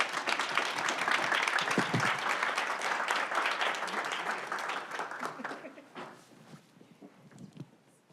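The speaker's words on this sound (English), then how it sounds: "Let's give them a round of applause." Conference audience at a brain health innovation summit applauding startups, a dense burst of clapping that gradually thins out and fades, with scattered claps and faint voices near the end.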